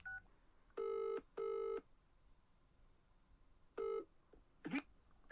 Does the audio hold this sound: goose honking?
no